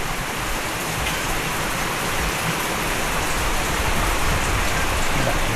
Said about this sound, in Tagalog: Malakas sa ulan eh.